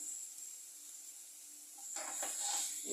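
Onion, tomato and ginger garlic paste sauté in a pan for a brinjal and chana dal kootu, a faint steady sizzle that grows into louder, crackling frying partway through.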